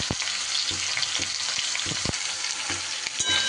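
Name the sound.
stirring spiced food frying in a pan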